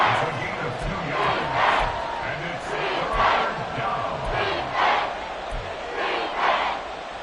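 Stadium crowd in a Madden 24 football game roaring steadily ahead of a big third down, a dense swelling wash of cheers and shouts rising and falling in waves throughout.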